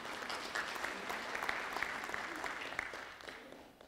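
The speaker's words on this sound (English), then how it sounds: "You can clap anytime you want." An audience claps at a high school Hall of Fame ceremony, a dense, steady applause from a moderately sized crowd that tapers off toward the end.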